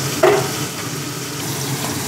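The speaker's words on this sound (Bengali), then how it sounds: "খুব সাবধানে ট্যাংরা মাছ ভাজতে হয়," Tengra fish frying in hot oil with a little turmeric in a wok, giving a steady close sizzle with one brief sharp pop near the start.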